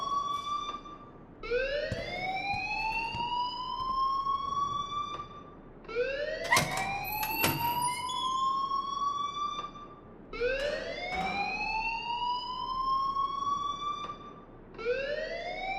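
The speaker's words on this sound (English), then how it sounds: "please turn off that alarm since that's your job" An alarm in the game Life is Strange wails in loud, rising sweeps that repeat about four times at a steady rhythm, with no voices over it.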